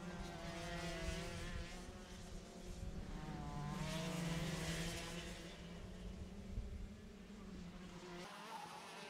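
Race cars on a racing circuit roar past in a continuous, loud blend of high-revving engine whine with shifting pitch, and a brief burst of tyre scrubbing partway through.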